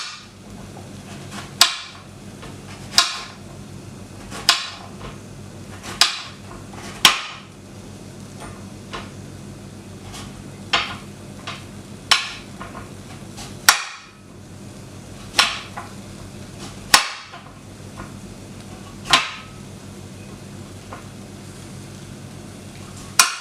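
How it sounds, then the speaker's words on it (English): Sharp, hollow knife strikes on a cutting board as a courgette is trimmed at both ends and sliced into long strips, about a dozen distinct chops in an irregular rhythm, close and clear with no talking. "chop both ends off and then chop the courgette into long strips"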